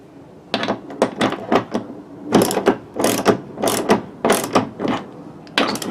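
A hand ratchet tightens a seat belt bolt in a 1994 Nissan, giving repeated bursts of sharp, close metallic clicking with short pauses between strokes.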